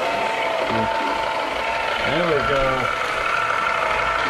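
An electric homemade ice cream maker churns with a steady ratcheting, grinding mechanical whir that holds for the whole stretch, with brief talk over it partway through.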